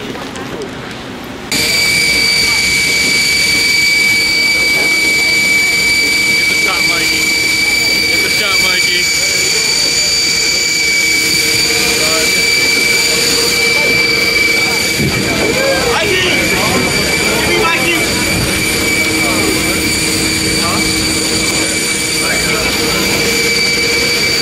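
Loud, steady whine of a double-decker airliner's jet engines, heard from inside the cabin with constant high tonal hum and low rumble, with occasional voices beneath.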